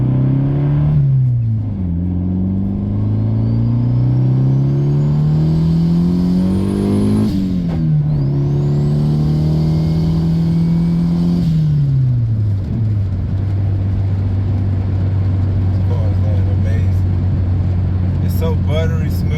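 A turbocharged Honda sleeper accelerates through the gears, engine drone climbing steadily with clear boost whistle and sharp shifts between pulls, loud and close, then settling to a steady cruise.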